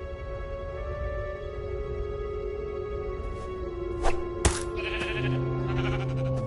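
In the Minecraft Story Mode video game, a sheep bleats in repeated wavering calls over a quiet ambient background, followed by sharp clicking and chiming game effects near the end.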